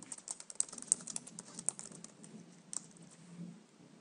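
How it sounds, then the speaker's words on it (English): Quick, light tapping on a computer keyboard as a note is typed, irregular soft clicks close up in a quiet room, with no voices. "Now type your note into the body"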